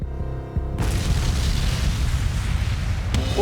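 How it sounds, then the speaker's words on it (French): A car blown apart by explosives erupts in a fireball, a sudden loud deep boom after a brief quieter lead-in, followed by a sustained roaring rumble with a second sharp burst near the end. "L'explosion ressemble à celle de la vidéo. Une boule de feu orange suivie de près par un énorme nuage de gaz et de fumée gris."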